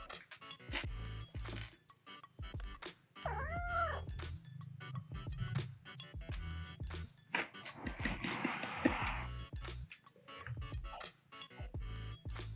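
A cat meows a few times at close range during a break from making a gemstone tree-of-life pendant, the short calls mixed with clinking and handling noises.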